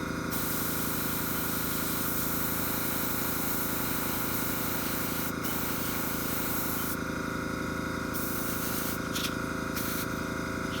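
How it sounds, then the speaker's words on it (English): Airbrush hissing steadily as it sprays green paint onto a balsa bluegill crankbait, a continuous close airy spray with a few short pauses, no talking. "putting it in the airbrush now to be sprayed"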